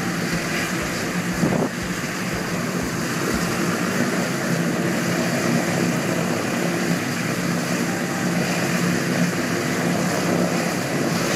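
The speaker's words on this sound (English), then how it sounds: "The camera makes the propellers on the B-24 bomber look as though they're turning very slowly. Actually, they're rotating at a high idle." Propellers of a B-24 bomber turning at high idle, a steady broadband engine-and-prop drone with wind buffeting, constant and fairly loud throughout with no talk.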